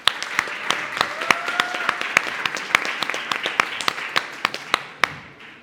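A modest audience claps at a student reading event, scattered individual claps rising into a brisk, irregular patter of applause that thins out toward the end.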